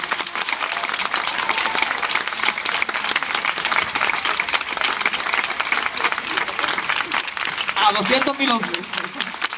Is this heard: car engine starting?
no